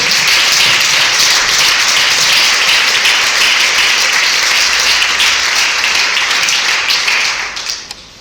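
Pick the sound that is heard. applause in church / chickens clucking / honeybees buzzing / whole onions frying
applause in church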